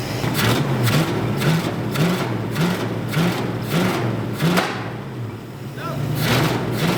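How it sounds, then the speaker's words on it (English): A junkyard 1966 Mustang V8 revs in repeated throttle blips, a steady rumbling engine rising and falling roughly every half second, fairly close and loud, with people talking over it. "See how it revs now?"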